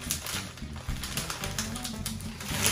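A bag of KurKure corn snacks is shaken close to the microphone, giving rapid crinkly rattling bursts of crisp plastic and tumbling pieces in an uneven rhythm, with no talking.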